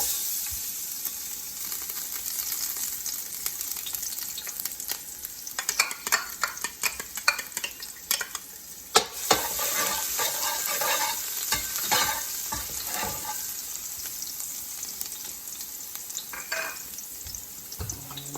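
Garlic frying in oil in a pot, a steady bright sizzle with intermittent scraping and stirring clinks from a utensil, close and continuous throughout.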